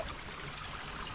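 Natural spring water runs in a soft, continuous trickle at a distant beach-side spot in the West Philippines, faint and steady with no voices.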